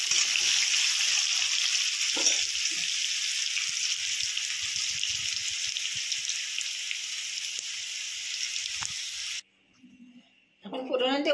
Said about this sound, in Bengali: এখন আলুটা একটুখানি ফ্রাই করবো।